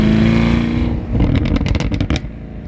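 A 2019 Chevrolet Camaro 1LE with a Tremec 6-speed manual pulls hard through the gears, its engine note loud and close, then dipping briefly at a shift before a burst of fluttering, crackling exhaust.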